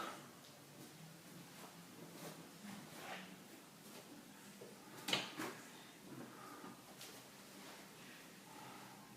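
Wide, deep drawers on a bedroom chest of drawers slide open with soft wooden knocks and scrapes, one sharper thud midway, quiet and close with no talk.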